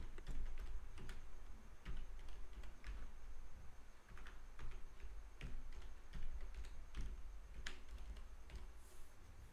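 Keys on a computer keyboard tapped while a new password is entered, a steady run of light clicks over a low background hum with no speech.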